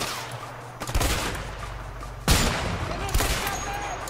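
Gunfire in the video game A Way Out, with several loud bursts of shots in quick succession over a short stretch, some close and punchy, some less distinct.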